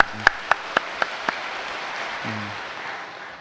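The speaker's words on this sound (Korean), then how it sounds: "하나님 앞에 감사와 영광의 박수 올려드리겠습니다" A church congregation claps, a handful of sharp, evenly spaced claps at first that give way to a softer, diffuse patter of applause, with a brief low voice near the middle.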